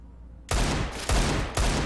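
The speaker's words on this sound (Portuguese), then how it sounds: "Tem os disparos do Glaive ali, tentando encontrar o Alu." Gunfire from a Counter-Strike match on the Nuke map, heard as three loud, broadband bursts in quick succession about half a second apart, each hitting hard and then trailing off, with no talk over them.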